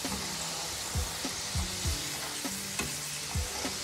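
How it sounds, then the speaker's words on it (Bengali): Steady oil sizzle and crackle from french fries frying, with periodic low scraping stirs about every half second to second, close and fairly loud, no voices. "এটা আমি প্রায় দু তিন মিনিট ভেজে নিলাম তেলটা ছড়িয়ে নিব শব্দ শুনতে পাচ্ছেন"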